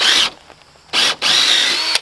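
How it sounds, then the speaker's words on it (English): A power drill with a Forstner bit bores into timber for a post-and-beam garage sill plate, giving two loud whining bursts separated by a pause, then a brief tail at the end. "They give a nice clean hole and they drill easy as long as they're sharp."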